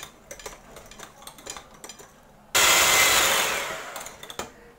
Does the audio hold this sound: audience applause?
no